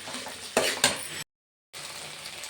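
Ginger garlic paste being stirred into a pan of baby corn Manchurian, with sizzling frying throughout, a couple of louder spoon scrapes, and a brief drop to silence before the sizzle resumes.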